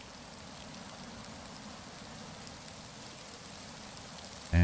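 Steady, even rain hissing down in the video game Rising World, a dense continuous patter at constant level with no talk, cut by a brief loud burst at the very end.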